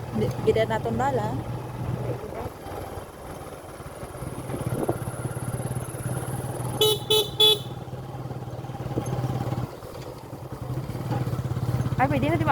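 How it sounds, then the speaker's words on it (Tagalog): A vehicle horn honks in a few quick toots on a rough rocky road in the Philippines, heard over steady engine rumble while people talk nearby. "Busina lang."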